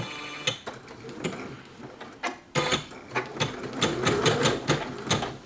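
An embroidery machine stitches a design onto a small Trader Joe's mini tote bag set in a hoop, giving a busy run of clicking, ratcheting mechanical pulses that quicken into a steady stitching rhythm close by.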